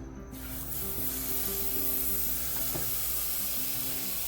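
Butter sizzles in a kadai on a home stove, a steady close crackling hiss with a faint background hum and no talking.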